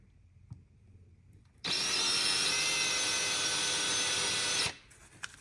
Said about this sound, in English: we'll drill these all the way through, these pilot holes